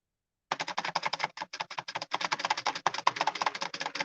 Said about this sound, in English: I'm clicking the space bar.